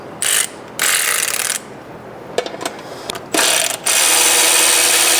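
A ratchet wrench loosens the single 10 mm bolt holding the expansion tank on a ZL1 engine, in bursts of fast clicking pawl strokes with short pauses between, close and clear.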